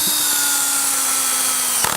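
A power drill driving a screw into soft pine wood without a pilot hole, a loud steady motor whine held for about two seconds and ending in a brief thump.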